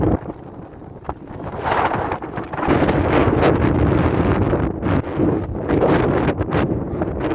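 Gusty wind roars against the microphone, quieter at first, then buffeting loudly in rough bursts with some rustling mixed in.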